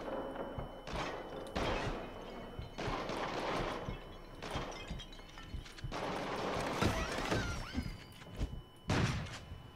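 Gunfire in the PSVR horror shooter Until Dawn: Rush of Blood, fired with a Move controller: a series of loud, sharp shots in irregular bursts over a busy game backdrop.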